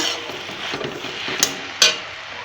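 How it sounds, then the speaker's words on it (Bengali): Vegetables stir-fried in a pan after their water has cooked off, with a low sizzle and soft scraping stirs, then two sharp utensil clinks against the pan. "সবজি জলটা শুকিয়ে গেছে এটা এখন ভালো করে কষিয়ে নেব"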